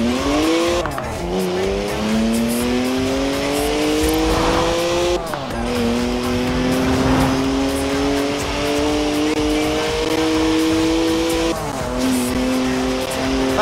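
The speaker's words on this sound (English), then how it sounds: "3 litre straight six, 335 horsepower, two turbos, and as much sideways action as you like" In Forza Horizon 4, a BMW's 3-litre twin-turbo straight-six revs hard through rising gear pulls while the tires squeal in long, loud slides, all up close, with a voice speaking over parts of the engine noise.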